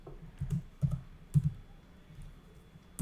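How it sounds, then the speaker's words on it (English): Someone types a folder path on a computer keyboard: a handful of sharp, close key clicks in small irregular clusters, with quiet gaps between them. "here I'm going to type my folder path as documents / Pabbly /"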